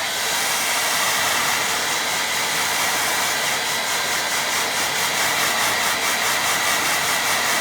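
A hair dryer blows steadily and loudly over a watercolour painting, a continuous close rushing hiss with no pauses and no talk.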